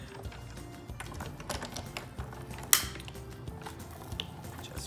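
A die-cutting machine rolls paper and a Graphic 45 tag die through its rollers, giving a soft, steady mechanical whir with faint clicks and one sharp snap partway through, fairly quiet and with no talking.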